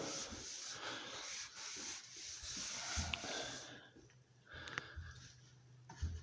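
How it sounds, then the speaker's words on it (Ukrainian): Steady scratchy rubbing of a rag over a wooden stair step, continuous strokes close up, then quieter with a few light knocks near the end. "Чистою тряпкою ми протираємо сходинку"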